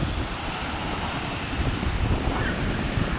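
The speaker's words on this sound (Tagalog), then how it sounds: "Grabe, ang ganda ng alon mga idol" Constant roar of ocean surf on a black-sand beach with a broad, rushing wash, mixed with some wind buffeting, no voices.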